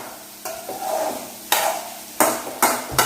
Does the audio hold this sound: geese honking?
no